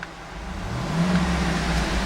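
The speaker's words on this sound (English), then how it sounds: "I'm going to rev the engine." A 2011 GMC Yukon XL AWD SUV engine idles, then rises into a steady rev, a low rumbling hum held close and moderately loud with no talking.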